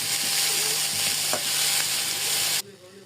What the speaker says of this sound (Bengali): শাকগুলো একটু করে ভেজে নেব এখন উলট পালট করে।